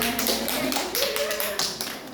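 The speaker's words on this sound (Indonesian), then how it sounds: "Tepuk tangan dong" A classroom of pupils claps steadily and continuously, a dense patter of many hands close by, with faint voices underneath.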